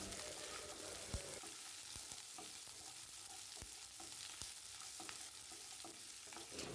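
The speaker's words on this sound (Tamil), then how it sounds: "இதெல்லாம் நல்லா வதக்கிக்கலாம்." Garlic and onions sauté in a pan for a tomato chutney, making a steady close sizzle broken by repeated scraping taps from stirring.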